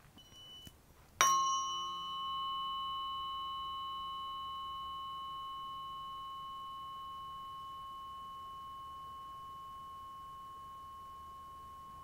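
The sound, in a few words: tuning fork tone, Fibonacci pair of 89 and 144 hertz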